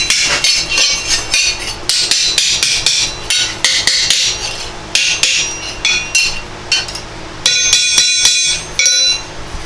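Metal rust repair panel hammered out for backyard body work, sharp ringing blows landing in quick irregular bursts, loud and close, with brief pauses between runs.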